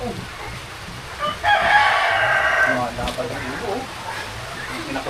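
Chickens cluck and a rooster crows once in a short loud burst, in a noisy outdoor setting with a steady background hiss.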